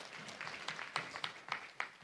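Audience applause at a national conference on justice, peace and reconciliation in Tanzania, faint and distant, with a steady patter of individual claps running through the whole short stretch.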